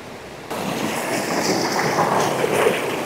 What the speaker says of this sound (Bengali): ও এই কারেন্টটা দেখুন জলের, আর এই জল গিয়েই ওই ছাঙ্গে ফলসের সৃষ্টি করেছে।